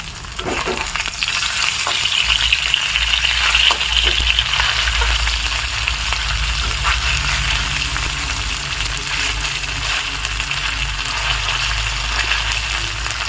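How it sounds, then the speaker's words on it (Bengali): Battered paneer pieces are turned over in a wok of hot oil: a dense, continuous sizzle with a few scraping clicks as they are flipped. "এবার এইগুলো একটু উল্টে পাল্টে ভেজে নেবো"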